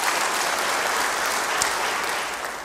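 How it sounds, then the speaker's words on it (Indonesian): A congregation at an Indonesian church service applauds, a full, steady roar of many hands clapping close and loud, holding evenly with a slight taper at the end. "Beri tepuk tangan yang baik bagi dia."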